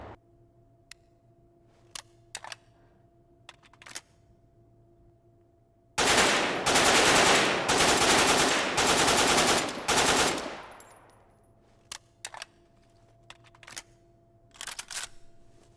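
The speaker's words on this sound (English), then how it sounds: "I like the sound of this gun a lot." A gun fires a rapid automatic burst at a shooting range in the Dead Matter video game: a loud, dense stream of shots lasting several seconds, framed by scattered single clicks and mechanical handling noises before and after.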